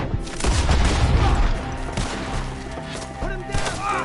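A shootout in the video game Red Dead Redemption 2, with rapid bursts of gunfire and heavy thuds mixed under urgent shouting voices.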